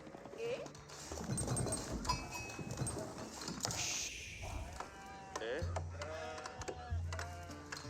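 Several sheep bleat in a busy Age of Empires IV game soundscape, with hoofbeats, chopping and other effects layered underneath and a voice talking intermittently.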